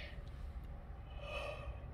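A person yawns, a long drawn breath with a rising, strained voiced tone near the end, close and fairly quiet over a low background hum.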